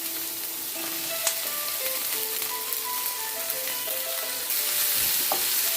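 Celery and onion frying in hot olive oil in a pan, a steady bright sizzle with occasional stirring clicks and scrapes, close and continuous with a slight swell near the end.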